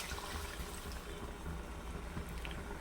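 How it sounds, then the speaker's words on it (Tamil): A tumbler of water pours steadily into a pan of simmering chicken curry, a continuous close wash of splashing and bubbling with no speech. "1 டம்ளர் அளவு தண்ணி ஊற்றிக்கிடுவோம்."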